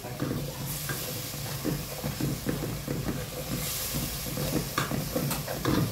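Greens and spinach fry in a pan with a loud, continuous sizzle and hiss, broken by occasional stirring scrapes and bumps, close up with no talk over it.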